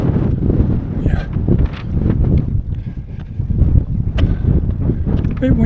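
Gusty wind buffets the microphone in low rumbling bursts on a hilltop trig point during an ultramarathon, with voices talking over it.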